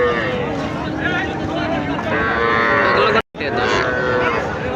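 Cattle at the Raniganj cow market, heard close and loud as several deep, drawn-out moos overlap and run on almost without a break. A short gap near the end splits the lowing, and a crowd murmurs underneath.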